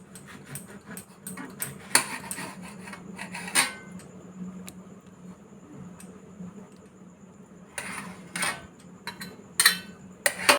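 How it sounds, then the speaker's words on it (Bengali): A knife cuts through a mango in a home kitchen at night, giving scattered, faint taps and scrapes against a quiet low hum, with a few louder clicks. "আর এখন রাত্রে খাবার জন্য আম কাটছি"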